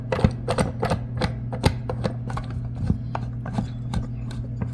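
A 90 degree clamp gets tightened down, with a quick run of close clicking and ratcheting ticks over a low steady hum.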